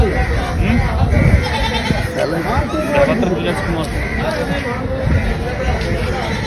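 Goats bleating amid a busy hubbub of chatting voices during goat buying and selling between traders and farmers, the calls close and mixed into the crowd noise.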